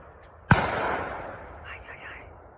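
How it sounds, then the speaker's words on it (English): A single distant gunshot outdoors, one sharp crack followed by a long rolling echo that fades over about two seconds, with faint voices afterward. "this is very unusual to be here and hearing gunshots"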